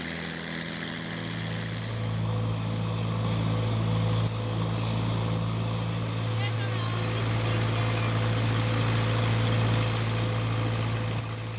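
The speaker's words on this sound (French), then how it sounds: "avec en prime le bruit incessant du moteur" Engine of a passenger and cargo boat on the Mekong river, a constant loud droning hum heard close up throughout, with voices faintly audible over it.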